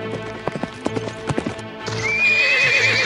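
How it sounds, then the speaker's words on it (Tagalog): A princess's horse clip-clops toward the listener in quick, uneven hoofbeats, then lets out a loud, drawn-out neigh that rings over the last second or so, with no talking. "Yan ay si Dragon, ang kabayo ng prinsesa"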